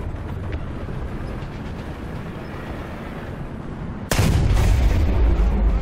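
The KV-85 tank's main gun fires in War Thunder, one heavy blast breaking in partway through a steady rumble of engine and battlefield noise and leaving a loud, sustained roar behind it.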